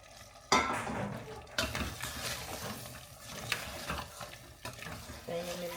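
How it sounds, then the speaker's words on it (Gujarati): Vegetables are stirred in a pan over a lowered flame, giving irregular scraping and clattering strokes over a soft sizzle, fairly close. "બધા વેજીટેબલ ધીરે ધીરે મિક્સ કરવાના છે"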